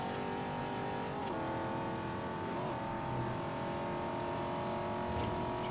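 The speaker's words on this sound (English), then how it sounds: "the fastest, almost the fastest supercars of the game" Supercar engines race in a Forza Horizon street race, with a steady sustained engine drone and shifting revs throughout, loud and continuous with no talk.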